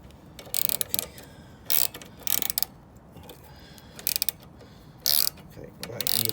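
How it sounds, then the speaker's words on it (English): A spanner turns the rear brake adjuster on a Lexmoto ZSB125 motorcycle, which clicks into position in a string of sharp, irregular metallic clicks and ratcheting bursts, close and fairly loud. "you'll find that it clicks into position because it's got like an oval on the inside of it"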